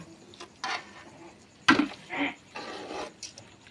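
Rava upma is stirred in a pan, producing a few distinct scraping, rubbing strokes of a utensil against the pan, close and fairly quiet with short pauses between them and no talking.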